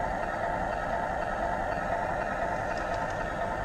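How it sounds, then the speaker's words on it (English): Steady, droning diesel idle from the sound system of a Menards Chicago & North Western 9291 model locomotive, constant and moderately loud with no breaks. "Let's turn on our engine sound."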